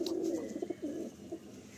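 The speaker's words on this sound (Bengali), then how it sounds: "আমি একটা পায়রা শখে রেখেছি।" A Madrasi pigeon kept as a hobby bird coos nearby, a few soft low rounded coos in a short run, fairly clear with no talking.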